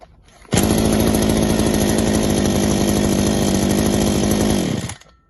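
A Mächtz MGB-2615 E petrol grass trimmer engine, started from cold, runs at a loud, steady high-pitched buzz for about four seconds, then cuts off abruptly.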